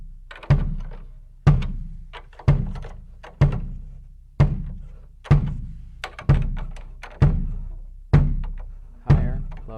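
Bass drum struck repeatedly during lug tuning, about ten evenly spaced deep thuds roughly once a second, each booming hit ringing briefly and decaying before the next.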